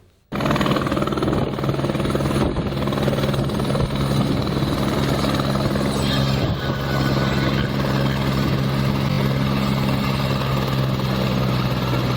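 A helicopter flies close and loud, its steady rotor and turbine roar filling the scene without pause for about twelve seconds, with no talk over it.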